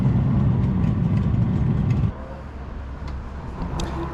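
Motorcycles, including some old bikes, roll into a morning breakfast meet with a loud, steady engine rumble that drops to a quieter, lower idle partway through, with no talk.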